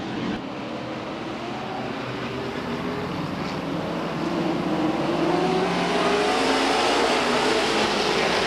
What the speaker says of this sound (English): And back on the track in the 10 cars, Jay Lindstrath.